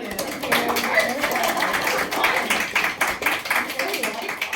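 After a choir seminar, a small group claps in loose, uneven rhythm, the hand claps fairly close, with some voices mixed in beneath.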